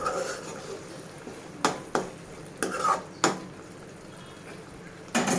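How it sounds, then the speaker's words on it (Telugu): Mint rice masala frying in oil in a pan, a steady low sizzle under several sharp scrapes and clinks of a spoon stirring against the metal, spaced a second or so apart. "ఇంకో 1 to 2 మినిట్స్ ఇలాగే ఫ్రై చేయండి."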